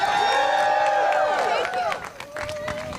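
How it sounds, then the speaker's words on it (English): An audience at a rally to protect HUD breaks into applause, a steady wash of clapping and cheering heard under overlapping voices and an amplified speaker. "Y'all give her a hand of applause."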